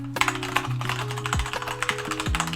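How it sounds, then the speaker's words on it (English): Rapid, steady typing on a Keychron K2 mechanical keyboard with brown Gateron tactile switches, crisp close keystrokes clicking in quick succession under soft background music. "the brown Gateron switches make for a beautifully tactile typing experience"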